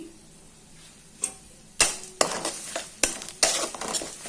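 Whole cinnamon, cardamom, bay leaf and cumin seeds fry lightly in a pan, with a soft sizzle beneath several sharp spoon scrapes and clacks against the pan, up close.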